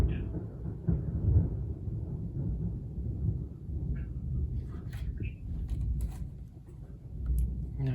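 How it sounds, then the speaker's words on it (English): Thunder during a storm rolls as a low, sustained rumble that swells and fades over several seconds, fairly distant, with a few faint crackles and knocks on top. "I love this kind of thunder."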